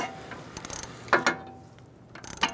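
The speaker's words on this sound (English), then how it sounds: "using our ratchet wrench to tighten it up" A ratchet wrench tightens a sway bar link nut on a 2000-2007 Ford Taurus, giving short bursts of quick metallic clicks separated by brief pauses, close and fairly crisp.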